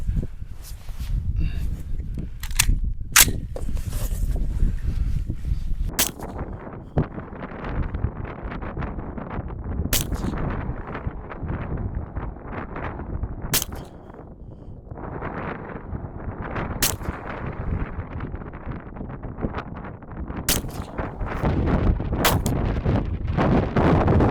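A 5.56 rifle firing match ammunition outdoors in hot weather, sharp single cracks spaced several seconds apart over a steady roar of wind buffeting the microphone.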